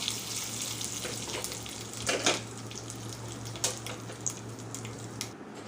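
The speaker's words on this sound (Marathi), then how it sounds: "तर गरम गरम तडका आपण टाकूया चटणीमध्ये" Hot tadka (tempering) poured into South Indian-style chana dal chutney gives a steady hissing sizzle with a few brief spits and crackles, close up and without speech.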